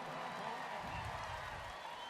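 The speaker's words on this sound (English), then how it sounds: "Let's give them a round of applause" Rodeo crowd in a large arena applauding the bullfighters, a steady wash of clapping and cheering that holds for about two seconds.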